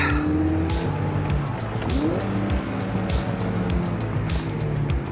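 A Mazda Miata NC on a race track, its engine droning loud and steady through braking and cornering, with tires squealing and skidding through the turn and the pitch shifting as the car slows and turns in.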